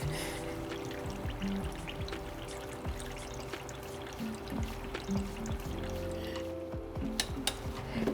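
Slurry pours into a moisturizer batch in a mixer beside a hot plate, a quiet trickling, dribbling stream with small clinks and a low steady hum underneath, close and faint.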